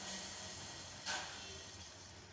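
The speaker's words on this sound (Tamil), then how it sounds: "பாருங்கள் பால் வந்து நல்லா பொங்க ஆரம்பிக்குது" Milk heats in a bronze pot on a stovetop burner at medium flame, just starting to come to a boil for sweet pongal, giving off a steady, even hiss with a brief swell partway through.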